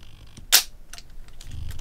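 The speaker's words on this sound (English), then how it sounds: "there's a nice shutter sound" Olympus Pen FT film camera shutter firing, one sharp metallic click followed by fainter mechanical ticks, close and isolated.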